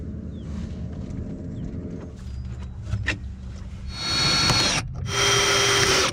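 Work inside a sailboat locker, where bolts are tightened from above while vice grips hold the nut beneath. There are close scraping, knocking and tool noises, then a louder, steady mechanical whir in the last two seconds.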